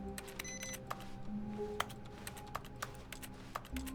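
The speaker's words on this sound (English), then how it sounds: "Why does it sound like I'm pressing keys?" Keyboard keys pressed in The Stanley Parable: Ultra Deluxe, a string of sharp, irregular clicks and taps close up, scattered over a faint electronic hum with no talking.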